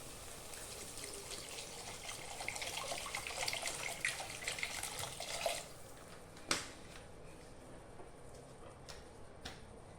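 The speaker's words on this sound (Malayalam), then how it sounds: "ഇതിനകത്തേക്ക് ഒരു ഒന്നര കപ്പ് വെള്ളം" About one and a half cups of water pours steadily into a pan of spices and mango for a Kerala mango fish curry, a rushing splash for several seconds before it stops, leaving a faint drip and a light clink.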